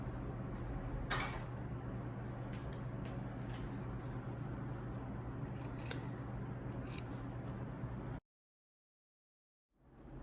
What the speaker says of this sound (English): So just trim about half of this seam allowance off.